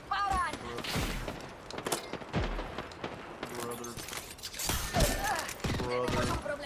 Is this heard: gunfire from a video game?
yes